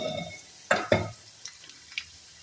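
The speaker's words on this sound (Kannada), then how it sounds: "ಸ್ವಲ್ಪ ಫ್ರೈ ಆಗಬೇಕು ಬೆಳ್ಳುಳ್ಳಿ ಎಲ್ಲ" Garlic cloves and dried red chillies frying in a pan of hot oil for Andhra-style tomato dal, with a steady soft sizzle, two sharp stirring clatters near the start and a few faint taps afterward.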